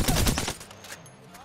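A burst of rapid automatic gunfire from a weapon in the Apex Legends shooter game, loud and dense for under a second before trailing off into a low game background.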